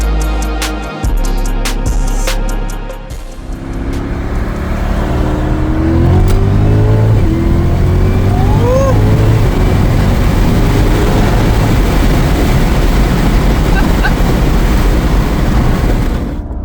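Stock supercharged Cadillac CTS-V with LT4 engine accelerating hard, a roaring wide-open run with rising revs and supercharger whine after a short lower-revving start, loud and close with no talk.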